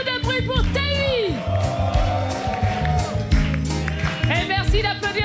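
Outdoor concert audience at a summer festival night making noise, whoops, yells and scattered clapping rising and falling over a pounding music bed, with a compere's voice heard briefly.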